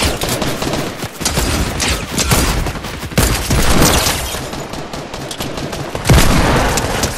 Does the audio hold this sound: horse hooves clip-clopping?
no